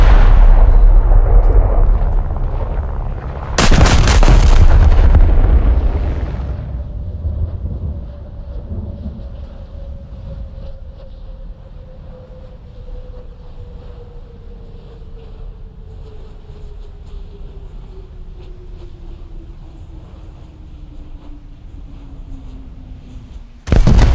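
Main guns of a 1920 Courbet-class battleship in War Thunder fire in a heavy booming burst, followed by a long rumbling decay and a falling shell whistle, with another blast cutting in at the end.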